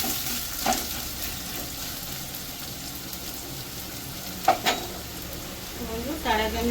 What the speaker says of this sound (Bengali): এবার পেঁয়াজটা একটু ভাজা হয়ে গেলে এবার এই মশলাটাকে দিয়ে দেবো।